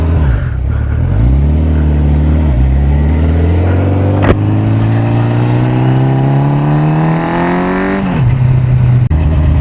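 Old Honda 750 Four motorcycle engine heard while riding, loud and close, its pitch climbing steadily through acceleration before dropping off as the throttle eases.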